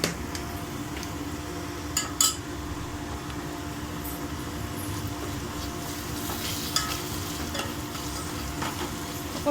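Ginger garlic paste frying in a pan for okra fry, a quiet steady sizzle with a few brief clinks of stirring utensils, no talking.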